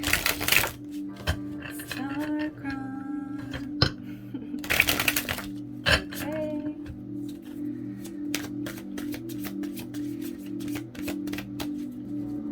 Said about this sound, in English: So I'm just going to shuffle everything out.